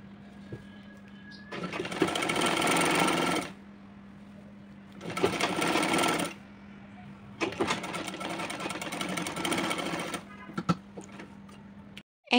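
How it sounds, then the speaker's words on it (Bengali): Sewing machine stitching pillow cover fabric, running in three separate bursts of rapid, steady mechanical whirring with short pauses between them, close by, with a faint background hum and no speech. "একটু বাড়তি রেখে জাস্ট ভেতরের দিক থেকে সেলাইটা দিয়ে নিচ্ছি"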